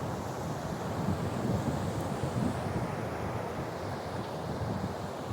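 Sea waves roll and break on Teknaf beach in a steady wash of surf, with wind buffeting the microphone throughout and no voices.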